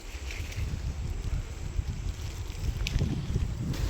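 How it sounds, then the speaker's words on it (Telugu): Strong wind blows steadily around a guava tree in an open garden, a close, rumbling gusty roar buffeting the microphone with a faint rustle on top, no voices. "చూస్తున్నారా, గాలి అయితే గట్టిగా వీసింది."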